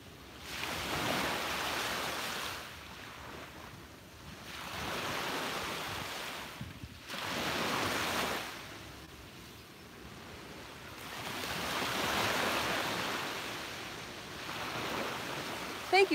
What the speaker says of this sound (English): let's soak in the sounds of those waves